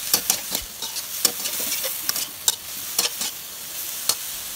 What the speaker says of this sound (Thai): ให้เราใส่มะเขือเปาะลงไปแล้วก็ทำการผัดต่อไปสักแป๊บหนึ่งค่ะ